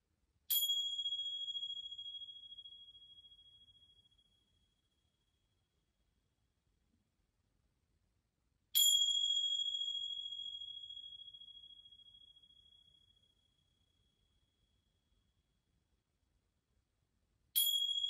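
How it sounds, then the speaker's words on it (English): Chimes struck three times at slow, even intervals, each bright metallic ring sustaining and fading for several seconds before the next, clear and alone in near silence. "You can listen to the chimes as we open the practice together."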